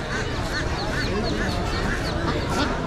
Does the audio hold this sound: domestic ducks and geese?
yes